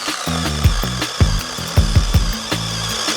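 A cordless DMS-201BC chainsaw cuts through oak firewood, its motor whining in rapid bursts as the chain bites and revs several times in a row, close and loud.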